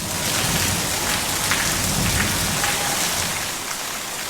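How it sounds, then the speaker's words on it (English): Steady, loud rain pours on a rainy day, a dense hiss of drops striking surfaces that holds constant throughout and eases only slightly near the end, with no voices present. "Look at this rain."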